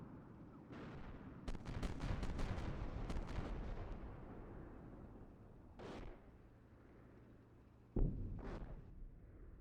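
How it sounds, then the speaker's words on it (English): Incoming fire in the tank simulator game Steel Beasts Pro PE, with a dense barrage of sharp gunfire cracks and booming impacts early on, then a few isolated distant blasts over a rumbling background. "2-2, we're taking fire here."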